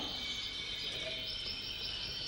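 Canaries chirp and trill at a local canary competition and exhibition, a continuous bright, fairly faint chorus of small songbirds running steadily throughout with no talking.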